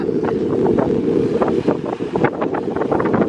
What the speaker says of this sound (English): We have a lot more crested waves in this one.